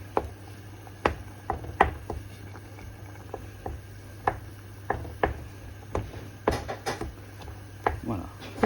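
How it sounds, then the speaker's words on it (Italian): Cooked cabbage broken up with pasta in a pan, irregular clacks and scrapes of a utensil against the pan, close and moderately loud, with quiet talk around them. "voi potete già anche romperlo il cavolo"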